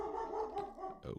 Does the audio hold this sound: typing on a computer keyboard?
no